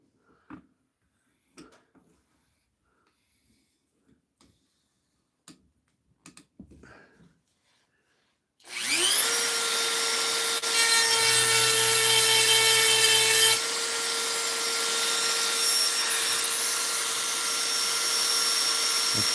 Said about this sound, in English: Cutting into my vise here.